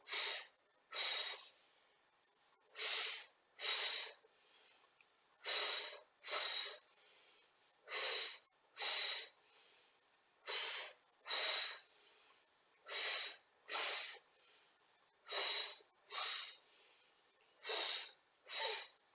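Steady, rhythmic breathing during a Pilates exercise class, with about sixteen evenly spaced breaths of inhales and exhales, close and clear, with no talking over them.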